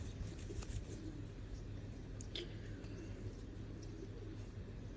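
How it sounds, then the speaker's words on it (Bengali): A golden-colored pigeon, calm-natured, gives soft low cooing close by, steady and faint against a quiet indoor background, with a few light rustles and clicks scattered through. "কবুতরটা একদম শান্ত স্বভাবের আর মুলায়েম মুলায়েম একটা বার্ড।"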